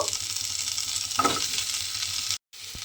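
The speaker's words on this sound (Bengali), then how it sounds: "আলু আর সজনে ডাঁটাটা আমি একসঙ্গেই তেলের মধ্যে দিয়ে দিচ্ছি।" Potatoes and drumstick vegetable pieces fry together in hot oil, browning with a steady, loud sizzle and a brief stirring scrape midway, then a short dropout before the frying resumes.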